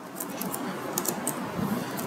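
A few soft, scattered keystrokes on a computer keyboard enter a markup note in a quiet room, faint and brief with no talk.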